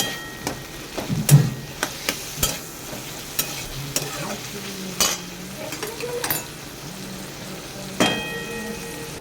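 Raw garlic and green chilies fry in a pan with a steady sizzle, while a utensil stirs through them with clear scraping knocks at irregular intervals, close and alone without speech.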